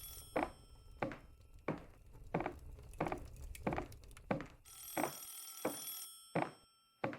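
A telephone bell rings in a steady repeating pattern of short, loud bursts, roughly one every two-thirds of a second, with no one speaking.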